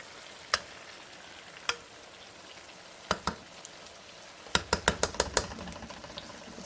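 A saltfish mixture frying in oil in a pan, a low steady sizzle broken by sharp utensil taps and scrapes, isolated at first and then a quick run of clacks as the mixture is stirred.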